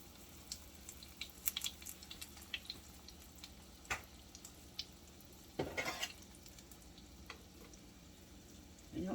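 Donut balls made from canned biscuits frying in hot grease, a soft steady sizzle with scattered crackles and pops and a few louder clatters, no talk.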